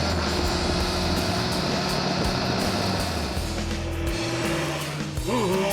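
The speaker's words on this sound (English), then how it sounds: "Accelerating through the gears and prodding the gear lever brings a rewarding noise and response from the" The three-cylinder engine of an MV Agusta Turismo Veloce motorcycle pulls through the gears, a steady droning engine note with wind rush and a rising whine near the end.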